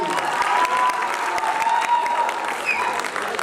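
An audience at an Urdu stage play event bursts into loud, brisk applause with some cheering mixed in, a continuous crowd clatter lasting the whole moment.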